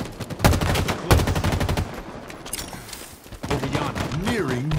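Halo Infinite multiplayer gunfire: sharp rapid bursts of automatic weapon fire up close, followed by more scattered shots and game sounds, with brief voice callouts near the end.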